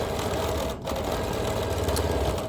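A sewing machine quilts a log cabin quilt with contrasting thread, running in a fast steady mechanical whir with one brief pause, close and loud, no talking.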